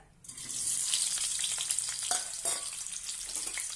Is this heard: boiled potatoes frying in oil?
yes